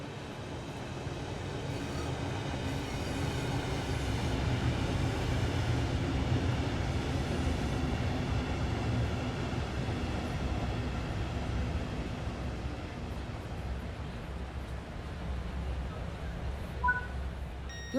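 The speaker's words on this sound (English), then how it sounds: "Your train has arrived." A British Rail Class 395 Javelin, a Hitachi-built high-speed train on the Southeastern route in Train Sim World 3, pulls in with a steady loud rumble and rail roar that holds throughout, with faint high squeals near the end and no talk.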